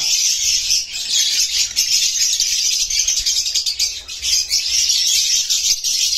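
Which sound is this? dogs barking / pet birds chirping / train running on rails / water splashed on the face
pet birds chirping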